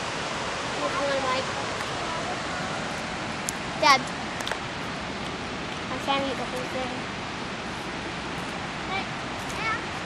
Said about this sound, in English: And there's the waterfall up over there.